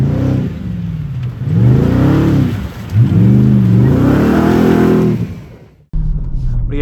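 A 2023 Ford F-150 Raptor R V8 pickup accelerating hard on snow, its engine note rising in loud swelling sweeps, dropping briefly, then surging again before cutting off near the end.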